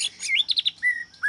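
An oriental magpie-robin (murai batu) gives a quick series of bright, close chirps and whistled notes, with short gaps between phrases.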